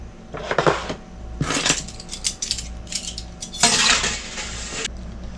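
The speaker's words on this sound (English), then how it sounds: "Now all we gotta do is get that cast iron skillet heating up." A heavy cast iron skillet is handled on a stovetop, giving several loud metallic clanks and scrapes in bursts near the mic, with quieter clinks and a low steady hum between them and no talking.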